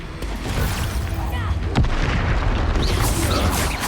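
An Expulso explosion spell cast in Hogwarts Legacy, a dense rumbling blast with a sharp crack in the middle, loud and sustained, with a voice speaking over it.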